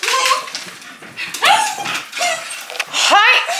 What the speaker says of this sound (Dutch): 2 blaffende honden